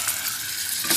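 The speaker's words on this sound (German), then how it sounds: "das kann jetzt hier so ein bisschen brutzeln" Cabbage and peanuts sizzle and fry in a pan, a close, steady crackling hiss with a light stirring clatter near the end and no voices.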